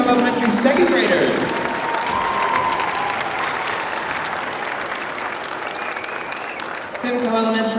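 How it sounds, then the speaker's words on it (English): An audience at a school district arts showcase keeps up a loud, continuous round of applause and some cheering for elementary second graders, with a voice speaking over the clapping at moments. "let's keep that round of applause going for the Simcoe Elementary second graders"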